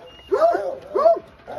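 A coonhound at a kennel gives two or three close, loud yelping bays with rising-and-falling whiny tones, spaced about half a second apart.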